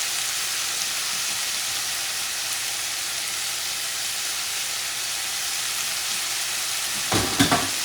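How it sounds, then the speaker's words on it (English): Longaniza sausage frying for Mexican-style tacos, a loud, steady, close sizzle filling the whole stretch, with a few clunks of stirring near the end. "we're going to mix things around and continue cooking"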